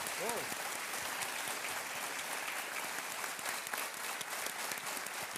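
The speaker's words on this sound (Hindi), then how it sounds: "तालियों के साथ इनका अभिनंदन किया जाए" Studio audience applause on a TV quiz show set, a dense steady wash of many hands clapping that fills the whole stretch at an even level, with a brief voice near the start.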